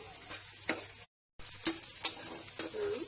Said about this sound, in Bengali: পেঁয়াজটাকে আমি একটু ভাজা ভাজা করবো